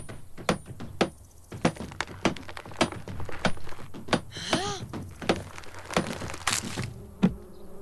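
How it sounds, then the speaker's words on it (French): Bees buzzing around a beehive in a cartoon scene, their drone rising and falling among sharp clicks, knocks and rattling noises, with a brief high whine near the end. "C'est une ruche pleine d'abeilles!"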